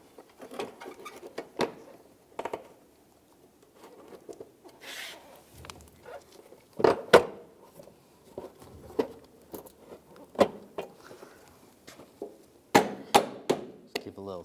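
Light taps and knocks while fitting a bumper end onto a 2007-2013 Chevrolet Silverado, a scattered series of sharp, close plastic-and-metal knocks with quiet handling noise in between.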